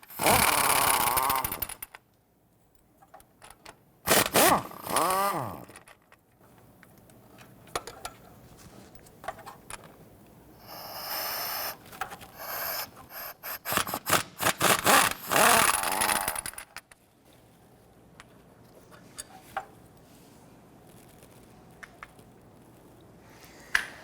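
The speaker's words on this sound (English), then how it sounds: "I'm going to remove these 3 bolts, 14mm." Hand tools remove 14mm bolts from the engine of a 1992-1996 Toyota Camry 2.2L four-cylinder: bursts of ratcheting and metallic clatter, some loud and close, separated by quieter handling noise.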